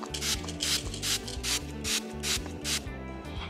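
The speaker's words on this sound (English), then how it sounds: "Next step is to spray your character with a ton of water." Rapid bursts from a hand spray bottle misting water onto Aquabeads, about eight quick hissing pumps in a steady rhythm, each with a faint mechanical click from the trigger, close by.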